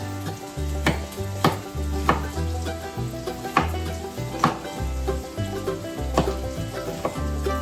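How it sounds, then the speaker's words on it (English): Bacon and onion fry in a pan with a steady close sizzle. Repeated sharp knocks and scrapes from stirring land at a regular pace, and a low hum runs beneath. No one talks. "we're going to put this in with our bacon as it's cooking, along with the onion"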